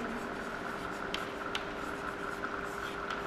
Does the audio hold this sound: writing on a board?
yes